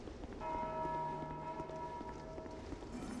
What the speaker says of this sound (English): Kill the bell ringing hollows.